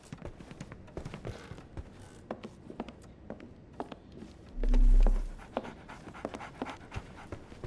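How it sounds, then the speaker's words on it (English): A dog pants in quick, rhythmic breaths in the Sherlock Holmes The Awakened video game, soft and close, with scattered footsteps or light taps and one brief low thump partway through. "So, Barnes has a dog now."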